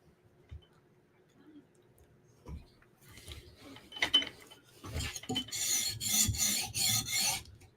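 A blade being sharpened on a 150 grit stone, with faint scattered scrapes at first, then steady, louder rasping strokes that grow denser and continuous toward the end, close up with no talk.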